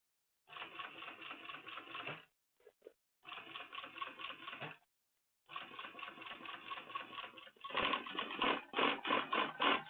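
A sewing machine runs stitching lines on a leather Admiral Grace tote in quick rapid bursts, pausing twice between runs and finishing with a louder, faster stretch; no talking.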